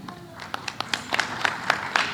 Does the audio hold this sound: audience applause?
yes